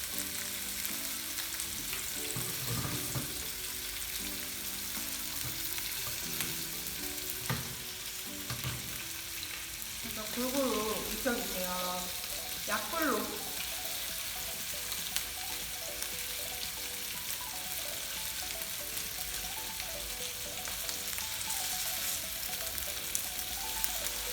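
Bacon-wrapped rolls sizzle and crackle steadily in a hot oiled pan, a dense, hissing fry with occasional scraping stirs, close and continuous without speech.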